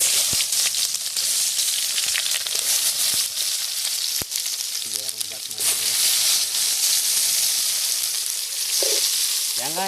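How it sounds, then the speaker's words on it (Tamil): Onions go into 100 ml of hot oil for a quail gravy, giving a loud, continuous crackling sizzle with a few sharp pops and scrapes while a voice briefly talks over it. "இப்போது நாம் வெங்காயத்தை போட போகிறோம்."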